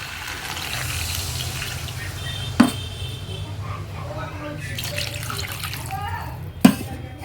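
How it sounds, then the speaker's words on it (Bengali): Water poured into a pot of cooking meat, potato and papaya curry, making a steady soft splashing stream with a couple of sharp knocks, and a voice faintly present. "এবার দিয়ে দেব পরিমাণ মতো জল।"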